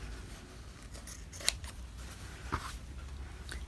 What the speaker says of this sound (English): or you can just use your scissors